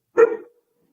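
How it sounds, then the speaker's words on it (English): A single short dog bark, close and clear, cutting sharply into an otherwise quiet room. "Sorry, dog's going crazy."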